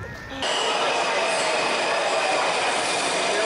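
A Washington D.C. metro train rides the rails with a loud, continuous roar and a rattle of wheels from inside the car, and a faint voice can be heard briefly at the start.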